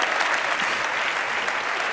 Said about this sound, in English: Let's give them a big applause so they don't hide